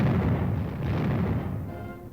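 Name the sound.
cannon artillery fire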